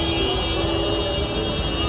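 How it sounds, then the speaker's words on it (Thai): Car horns sounding at a protest car mob in Thailand, several sustained horn tones held steadily over a dense wash of traffic and crowd noise. "ก็จะบีบแตรเพื่อแสดงสัญลักษณ์"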